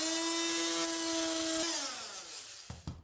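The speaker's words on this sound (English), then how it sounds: "Just with that little bit of cleanup from the oscillating saw, bring it right in tight." An oscillating saw trims a cut in wood for a bench build, with a steady high-pitched buzzing whine that drops in pitch as it winds down, followed by a couple of brief knocks.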